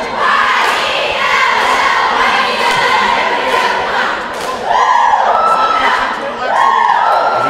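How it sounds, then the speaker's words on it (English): A sold-out crowd packs a very small gymnasium at a boys high school basketball game, Palmer against Rennaissance. It roars steadily throughout, and louder swells of cheering and shouting break out near the end. "Sold out crowd tonight."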